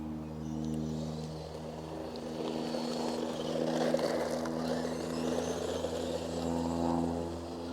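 A Bezgar HM161 1/16-scale RC monster truck driving at full throttle gives a steady, moderately loud electric motor whine that holds without a break, with no talking.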